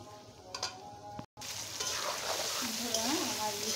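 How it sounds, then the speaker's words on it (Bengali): A hilsa fish head fries in oil, a steady sizzle with faint spatters. A voice briefly speaks over the frying after a short cut. "কিছুক্ষণ ইলিশ মাছের মাথাটা আমি ভেজে নিব।"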